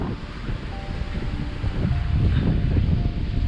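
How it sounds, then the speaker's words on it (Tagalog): Strong, steady headwind buffets the microphone during a long-distance road bicycle ride, a continuous loud rumbling roar that swells slightly louder partway through, with no talking. "Ay, ganito kalakas yung hangin ngayon. May headwind kami."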